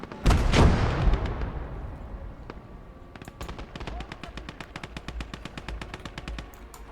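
Machine gun and artillery fire rage in the war video game Motherland: a heavy blast opens, then a steady rapid rattle of automatic gunfire with scattered shots, loud and near, over battle din.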